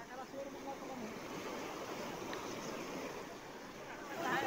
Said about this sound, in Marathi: नदी नाले ओसंडून वाहू लागले, त्याची ही दृश्य आहेत